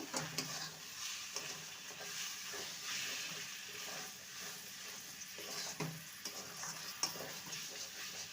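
Ridge gourd frying with cumin powder and slit chillies being mixed in, a soft continuous sizzle with scattered stirring clicks and scrapes, fairly quiet and without talk.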